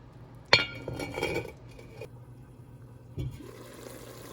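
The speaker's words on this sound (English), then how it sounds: "Now I'm going to add my lid and let this cook down maybe for about 5 minutes." A lid set onto a pot of brown stew pork gives one sharp metallic clink, followed by a fainter clatter and a muffled bump a few seconds later, with a low steady hum underneath.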